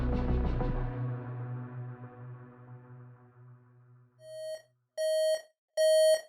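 A resonant ringing tone decays away, followed by three short electronic beeps from a battery backup unit at a steady pace, each one louder and clearer, close by in a quiet room.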